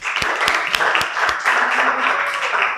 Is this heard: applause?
yes